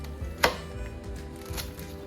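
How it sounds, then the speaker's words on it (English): A knife chopping an onion on a cutting board during Mexican chicken birria preparation, one sharp close chop standing out, then softer cuts over quiet kitchen background. "we're gonna chop up this onion"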